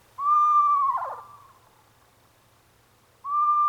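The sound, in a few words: screech owl call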